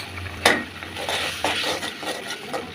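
Turmeric, chilli, cumin and coriander powders are stir-fried in a pan for a village egg curry, with a steady sizzle and repeated scraping strokes of a spoon, one sharp knock near the start.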